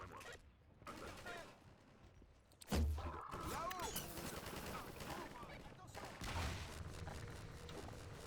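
Video-game gunfire in Half-Life 2 breaks out in a sudden heavy burst and goes on as sustained rapid shots and machine-gun fire, with some quieter voices mixed in underneath.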